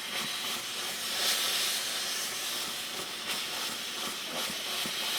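Continuous hissing steam from a steam iron held just above shrinking texture fabric, a steady airy rush with slight swells and no talking.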